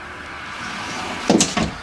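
Pull-out pantry drawers in a 2018 Thor Motor Coach ACE 27.2 motorhome slide open, giving two short, close rumbling bursts near the end after a quiet stretch.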